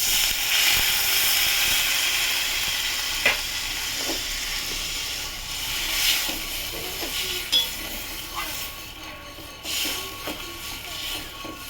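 Water poured into a hot pan for a Bengali fish curry sends up a steady, close hiss of steam and sizzle that gradually eases, with a few light metallic clinks along the way.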